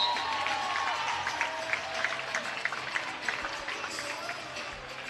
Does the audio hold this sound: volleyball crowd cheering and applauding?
yes